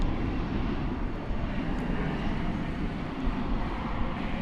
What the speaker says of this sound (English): American Flight 78, the 777, which is going to Heathrow.